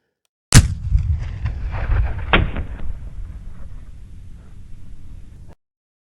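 A single loud, sharp gunshot fired at playing cards in a card-shooting setup cracks close by and rolls away in a long outdoor echo, followed by a second fainter report and fading rumble.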